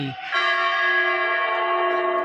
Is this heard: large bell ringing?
yes